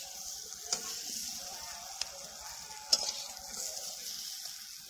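Potatoes frying in a pan, a steady bright sizzle with a few sharp clicks of a utensil stirring, close and continuous with no talk.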